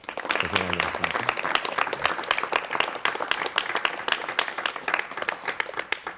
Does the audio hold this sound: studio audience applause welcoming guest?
yes